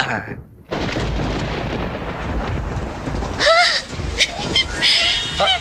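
Rain falls in a film scene, a steady broadband wash with low thunder-like rumbles, while people talk over it.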